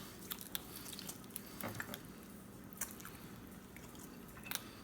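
Someone chewing a bite of smoked turkey breast cooked in an ugly drum smoker, quiet close-up wet squishing and biting clicks in irregular bursts.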